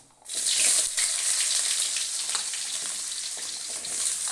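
Chopped onions hiss and sizzle loudly in hot oil where mustard seeds have just popped, a dense steady frying roar with a few faint stirring scrapes, for a bottle gourd stir-fry.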